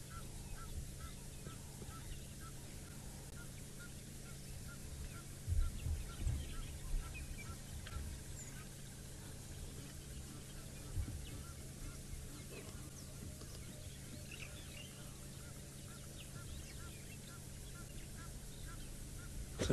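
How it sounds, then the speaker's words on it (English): Distant Egyptian geese honking now and then over steady outdoor ambience, faint and scattered, at Chitwa Dam. "lots of Egyptian geese"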